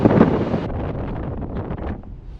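Strong gusting wind buffets the microphone on the open deck of the Stena Europe ferry between Rosslare and Fishguard, a loud continuous roar with wet, blustery turbulence and no voices.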